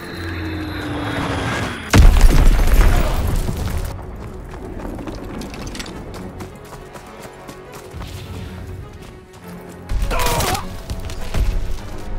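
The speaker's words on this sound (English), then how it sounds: "Enemy bomb incoming." Bomb blasts in Call of Duty: WWII: a loud broadband explosion bursts in at about two seconds and rumbles off, and a second heavy blast follows near the ten-second mark over a busy battlefield background.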